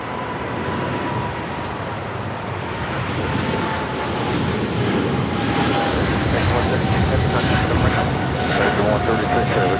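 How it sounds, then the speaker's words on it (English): An American Airlines Boeing 777-300ER takes off from runway 25 right at LAX, its engines giving a strong, sustained roar with a faint rising whine, and a voice speaks over it. "That is American Airlines Flight 136 taking off to London Heathrow on a 777-300ER."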